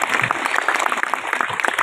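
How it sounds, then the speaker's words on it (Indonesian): An audience at a religious gathering for Isra Mi'raj claps together, a dense burst of hand claps with a brisk uneven rhythm, fairly loud and close, with no speech over it. "Tepuk tangan buat ayah ibu kita."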